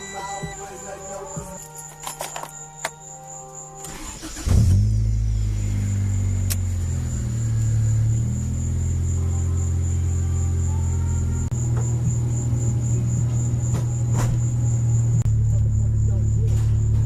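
An Acura Integra with a freshly installed stage 2 clutch starts with a few clicks, then its engine settles into a steady idle before pulling away, the tone rising and falling through gear changes.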